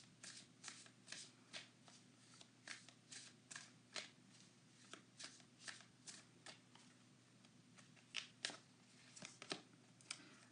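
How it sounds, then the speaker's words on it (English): A tarot card deck is shuffled by hand in quick riffling bursts, a quiet, close rhythm of papery flutters repeating steadily with no talk. "And then I focus as I'm shuffling"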